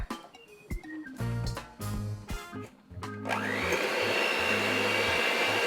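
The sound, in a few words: mixing butter and sugar in a large bowl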